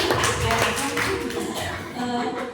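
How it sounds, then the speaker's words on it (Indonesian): Applause from an indoor audience for Pak Gusti at a positive-culture dissemination session, a dense patter of many hands clapping steadily at moderate loudness, with voices mixed in. "Tepuk tangan dulu untuk Pak Gusti."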